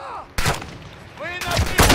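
Enemy gunfire in the video game Call of Duty: DMZ: a sharp burst of shots, a pause, then a denser volley near the end, loud and close, with faint voices in the background.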